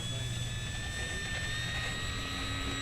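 A Durafly P-40N 1100mm RC model warbird's electric motor and propeller whine steadily at about half power during takeoff, a continuous high tonal hum over wind noise, moderately distant.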